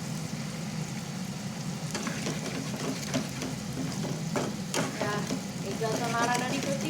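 A coriander and tamarind chutney is stirred in a dark pan over steady low sizzling, with scraping strokes of the spoon and a voice speaking over the cooking.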